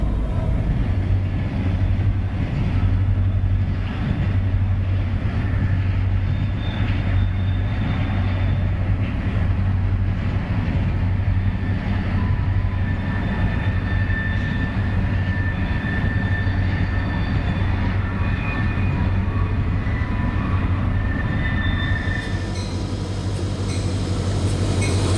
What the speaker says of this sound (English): A westbound rolls through Glen Fraser led by a trio of